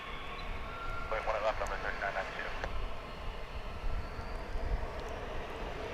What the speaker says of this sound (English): Arriving now from Mexico City. The 737-800, Flight 1066 American Airlines.